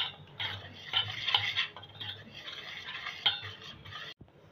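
Baking soda mixed into gram flour batter for bode, a spoon scraping and swirling in a bowl close by with rhythmic rubbing strokes and a few light clinks against the rim, ending abruptly.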